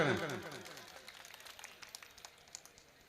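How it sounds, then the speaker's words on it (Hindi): A brief voice at the start gives way to a crowd clapping at a mushaira poetry gathering, a dense patter of many hands that carries on steadily at a moderate level. "जोरदार तालियों से इनका खैर मकदम करें।"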